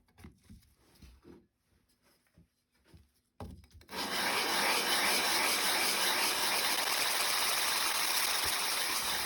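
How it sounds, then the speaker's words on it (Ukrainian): Fine sandpaper scrubs the metal cover of an old hand grinder in a workshop: a few quiet taps and shuffles come first, then loud, continuous, even rasping rubs without pause to the end. "ця наждачка занадто мілка"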